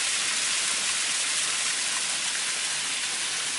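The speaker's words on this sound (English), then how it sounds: "we came upon this little waterfall right here" A small waterfall about ten feet tall in a lush canyon, pouring as a steady, full hiss of falling water close by, with no voices over it.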